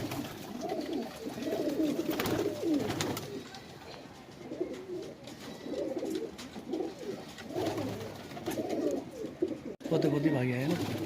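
Madrasi pigeons coo in soft, low, repeated bursts close by, with people talking over and between the calls.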